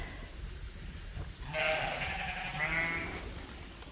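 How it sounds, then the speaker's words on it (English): Ewe lambs bleat during their daily feeding ration on a farm, with two or three moderately close, wavering calls over a steady low background rumble. "Here we are with the happy ewe lambs getting their daily ration."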